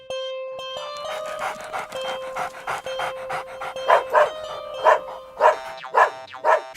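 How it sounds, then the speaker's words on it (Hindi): A dog on a farm field pants and gives quick, rhythmic barks, close and fairly loud, with the pulses growing stronger and more spaced toward the end; nobody speaks. "क्यों भौंक रहे हो?"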